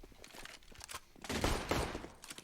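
Bursts of AK rifle fire in Counter-Strike on the Inferno map during a competitive match, a quick flurry of shots swelling to a louder cluster midway, moderately faint and close.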